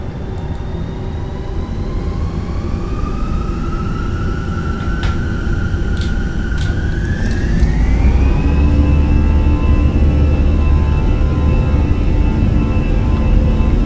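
Airbus A320 jet engines spooling up for takeoff in a flight simulator, a loud steady roar with a whining tone that climbs in pitch and swells as thrust builds, with no voices.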